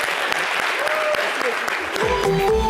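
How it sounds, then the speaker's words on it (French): Audience applause for a comedian on a French-language television show, a dense burst of clapping that carries on steadily and is joined near the end by a rising music or jingle underneath. "merci de l'applaudir, bravo."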